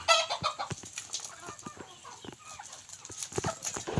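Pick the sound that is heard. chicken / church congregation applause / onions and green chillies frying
chicken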